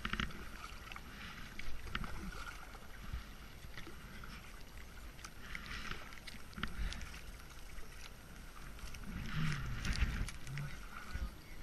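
Kayak paddles splash and swish through river water in a steady rhythm, with wind buffeting the microphone throughout.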